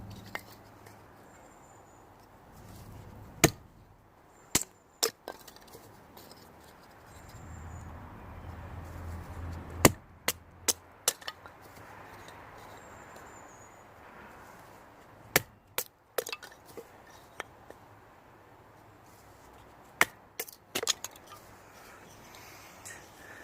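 A bushcraft knife is batoned through wood with light taps, giving sharp, close wooden knocks spaced irregularly, sometimes in pairs, over a quiet outdoor background.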